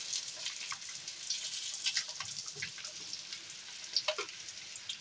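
Eggs frying in hot oil in a pan, a steady crackling sizzle with scattered sharper pops, close and fairly quiet, with no voices.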